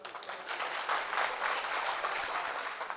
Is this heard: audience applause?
yes